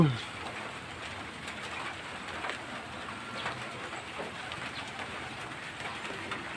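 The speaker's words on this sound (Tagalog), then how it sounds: "Ay, naulan na naman." Steady rain falls outdoors at a bird training field, a constant close hiss with pigeons or doves cooing and birds moving around, and a brief louder thump at the very start.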